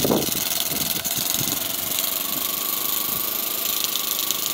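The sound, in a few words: Cheddar Gemini steam engine running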